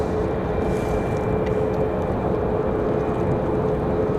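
Air Canada CRJ regional jet idling at Raleigh-Durham airport, a steady, continuous engine drone with a faint whine, constant and unbroken throughout.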